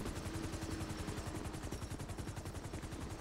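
Rapid, continuous video game gunfire in GTA roleplay rattles without pause, dense automatic bursts layered over a steady low rumble, loud and close throughout.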